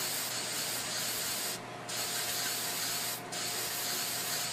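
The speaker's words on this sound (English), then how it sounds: "spray it on all around on just the foliage" Spray paint hisses from an aerosol can onto model railroad tree foliage, a loud steady close-up hiss in three bursts separated by two brief pauses.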